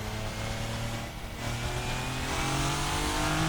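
An LMP race car in the Assetto Corsa racing game accelerating up through its gears, the engine note climbing in pitch, dropping briefly at a shift, then rising again loud and continuous.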